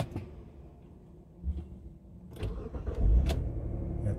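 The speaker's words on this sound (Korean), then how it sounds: "단발 시동 되고요." A car with a faulty sensor, undergoing diagnosis at an auto repair shop, is switched back on and its engine starts in a single attempt: a quiet electric whine, then a short cranking burst that catches into a low idle.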